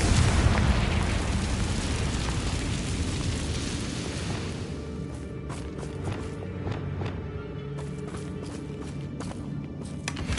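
A Confringo fire spell explodes in Hogwarts Legacy, a loud broadband blast up front that decays into a long rumbling tail with scattered crackles and small pops.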